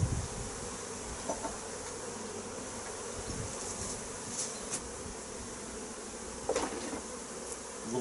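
Honeybees at beehives in spring fill the air with a dense, continuous buzzing hum, with individual bees zipping close by now and then over the steady drone of the swarm.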